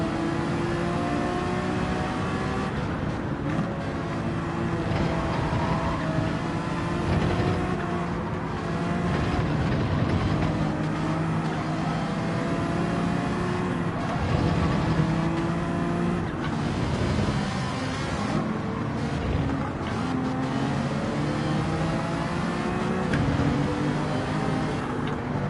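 Ferrari race car engine in Gran Turismo 7 roaring continuously at high revs, a loud sustained drone with shifting pitch and gear changes and other cars mixed in, no talk.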